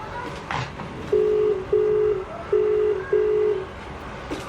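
Phone ringback tone heard while calling, four steady repeated beeps with short gaps between them, moderately loud over low background noise, no talking.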